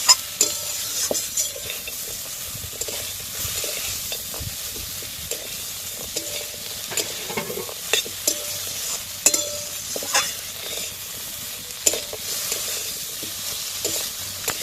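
Potatoes with mustard stirred in a frying pan: a steady low sizzle under repeated scraping and clinking of a utensil against the pan, close by.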